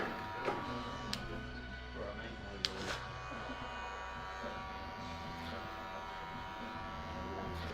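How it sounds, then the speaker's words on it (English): Electric hair clipper thinning the edges of a blend during a side-part haircut, a steady close buzz running throughout with a few faint clicks. "I'm just going to thin out just the edges now of that blend with a clipper"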